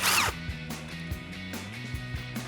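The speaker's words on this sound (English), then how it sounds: "grab a 5mm Allen key or Allen socket and remove this bolt" Close ratcheting of an Allen socket on a ratchet backing a 5mm bolt out of the front steering knuckle of a 2009-2014 Ford F-150, quick repeated clicks with rising and falling tonal whirs, after a brief louder scrape at the start.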